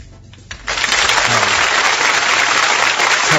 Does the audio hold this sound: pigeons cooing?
no